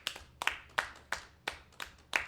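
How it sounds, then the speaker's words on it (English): A small audience claps for a woman coming up on stage at a podcast taping. A handful of sharp, irregular hand claps ring out close by, spaced in loose bursts with no talking over them. "We're gonna keep clapping till she get up here."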